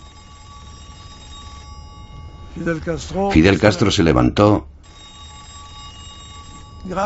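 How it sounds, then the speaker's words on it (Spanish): A telephone rings with a steady electronic tone during a lunch in Fidel Castro's company, sounding before and after a voice speaking in Spanish over it. "En mitad de la comida sonó el teléfono."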